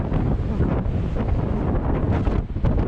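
Strong wind at Boscastle buffets the microphone in a continuous loud roar, steady throughout with slight gusting swells.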